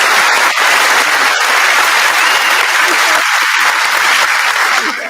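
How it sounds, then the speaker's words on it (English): Applause from a studio group or live audience during a talk show, steady and fairly loud throughout, a dense wash of clapping with a few voices mixed in. "We definitely have to give him an applause."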